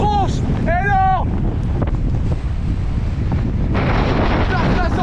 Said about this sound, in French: on est en train de se prendre un vent dans la tronche énorme